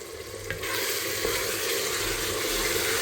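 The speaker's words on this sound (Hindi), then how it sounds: "ये डाल के अब मैं इसको भून रही हूँ चनों को" Pressure-cooked black chickpeas with onions and turmeric fry in a pan. After a brief quiet moment, a loud, steady sizzle breaks out and continues.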